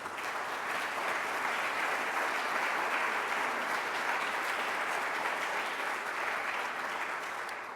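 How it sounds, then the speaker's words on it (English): Audience applause at Woodstock, Illinois's 2025 State of the City address honors local businesses: a dense, steady wash of many hands clapping that holds even and full for the whole stretch, with no voices on top. "Give these businesses a round of applause"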